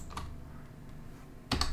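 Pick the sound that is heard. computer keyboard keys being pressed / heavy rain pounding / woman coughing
computer keyboard keys being pressed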